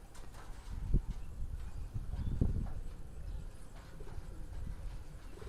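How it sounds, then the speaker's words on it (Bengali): Koka pigeon chick cooing softly in short, low bursts, close by, with faint shuffling and handling noise between the calls and no talk. "এটা কোকা কবুতরের বাচ্চাটা"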